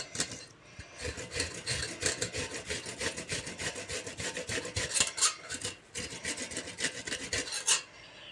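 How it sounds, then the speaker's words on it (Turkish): Garlic cloves are rubbed against a grater in quick back-and-forth strokes, producing a close, steady rasping rhythm that continues for several seconds with brief pauses. "Sarımsakları ufak yerine rendeliyorum."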